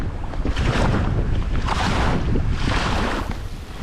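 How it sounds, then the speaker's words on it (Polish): Strong wind buffets the microphone over choppy, large waves on open water, a loud continuous roar with surging gusts and no speech. "To już jest za duża fala, naprawdę."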